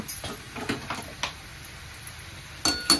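Drumstick pods are stirred in a pan, giving light intermittent clinks and scrapes of a utensil against the metal, a few soft taps early and a brighter pair of knocks at the end, close and without talk.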